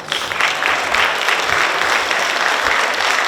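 A school band spring concert audience applauds the percussion players, a sustained dense clapping from a full hall that continues evenly throughout.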